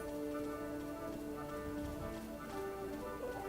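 Rain falling in the video game Final Fantasy XII, a soft, continuous patter with a faint tonal music bed underneath, steady and fairly quiet throughout.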